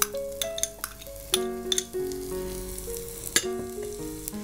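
A small chopped onion fries in about two tablespoons of white oil with a bright, crackling sizzle and clinks of a spoon, while tonal music plays over it.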